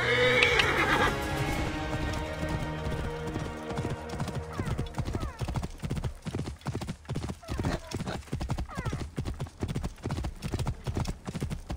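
A horse in Assassin's Creed Origins whinnies loudly at first, then gallops with a fast, steady clip-clop of hooves that continues to the end, up close and with no talk over it.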